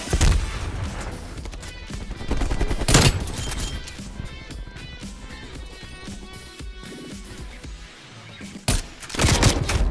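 Gunfire in Call of Duty Black Ops Cold War with a Swiss K31 sniper rifle, loud sharp shots and short bursts cracking through a busy battle mix, a couple of heavy blasts standing out near the start and the end.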